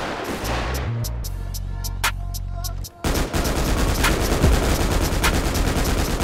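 Loud gunfire fills a GTA 5 roleplay chase involving drag trucks and police, with rapid repeated shots and bursts that crackle close by over a continuous engine rumble.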